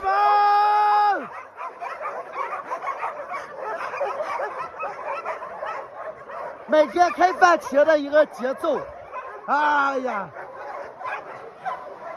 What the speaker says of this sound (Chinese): 到开饭时间，狗狗们吵的就不行